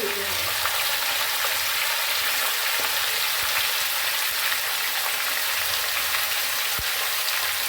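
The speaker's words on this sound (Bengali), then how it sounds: "আলুগুলো খুব ভালো করে ভেজে নিতে হবে।" Potatoes fry in a pan with a loud, continuous sizzle and crackle, close up and steady throughout, with an occasional soft clack of a utensil.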